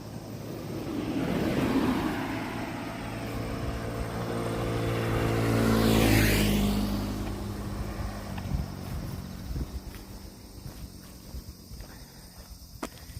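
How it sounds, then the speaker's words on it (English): A car passes along a quiet countryside road, swelling from a distant approach to a loud close pass near the middle and then fading away, heard alone without talk. "Car coming."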